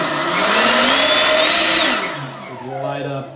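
Graupner Viper model jet motor running on 12S power revs up hard on the throttle, a loud close whine that rises and holds, then spools down and settles to a steadier hum.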